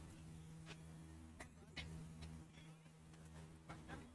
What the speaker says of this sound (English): in the commentary box, we're getting attacked by some bees